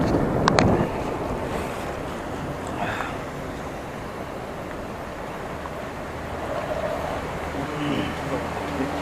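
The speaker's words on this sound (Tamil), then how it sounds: "ஃபுல்லு மழை." Heavy rain pours during a motorbike trip from Bangalore to Dharmasthala, a dense, steady hiss of water and wind rushing past, continuous and fairly loud with a brief sharp knock near the start.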